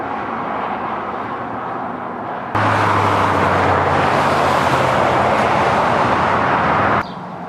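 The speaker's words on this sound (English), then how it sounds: "Wow, there is so much traffic along here." Road traffic on a busy roadside rushes past in a loud, broad roar that suddenly swells for several seconds as vehicles pass close by, then drops back to a quieter background hum.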